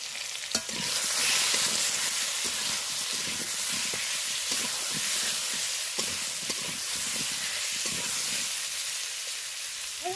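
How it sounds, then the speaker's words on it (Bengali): Potatoes fry in a little oil with turmeric and salt, giving a steady close sizzle and hiss with soft stirring scrapes throughout, and no voices. "আর আলুগুলো ভেজে নেব একটু সামান্য পরিমাণ মতো হলুদ আর লবণ দিয়ে আলুগুলো একটু লাল করে ভেজে তুলে নেব"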